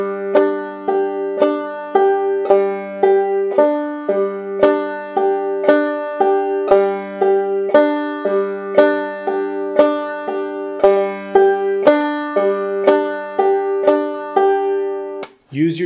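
A clawhammer banjo plays a steady, even eighth-note pattern with a drop thumb onto the open first and third strings. The plucked notes are bright, close and evenly spaced, each with a sharp attack and a short ring, over about sixteen seconds with no talking.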